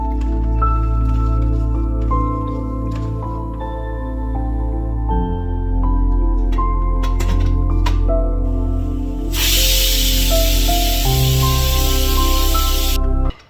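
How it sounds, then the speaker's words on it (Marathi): A pressure cooker of peas pulao, seasoned with salt and a little sugar, gives off a steady tonal whine, then a loud, harsh burst of steam hisses for a few seconds before fading near the end. "इथं कुकरची वाफ गेलेली आहे"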